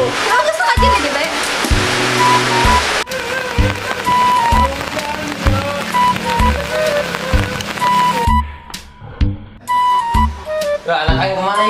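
Steady rain hisses across a surface, with voices and other background sounds mixed in, and it eases briefly toward the end.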